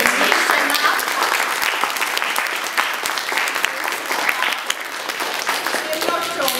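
Audience applause for the performers at a children's theatre festival awards summary, a dense, steady wash of many hands clapping from start to finish with a few voices mixed in.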